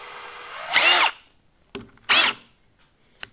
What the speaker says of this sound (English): We're gonna chuck it into this drill